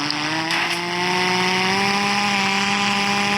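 A steady, buzzing engine drone with rising harmonic tones, loud and continuous, like a small motor revving up and holding.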